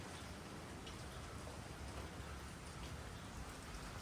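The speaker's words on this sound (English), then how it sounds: "It sounds like rain falling." A rain and snow mix falling in Lindenhurst, Long Island, pattering steadily onto roofs and into gutters as a soft, continuous hiss with faint drip ticks and no speech.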